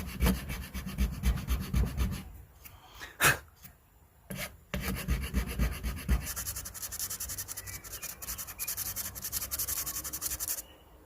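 A wooden crankbait fishing lure is worked with a file and sandpaper to refine its shape, a close rasping scrape in quick back-and-forth strokes, briefly pausing with a couple of knocks before resuming.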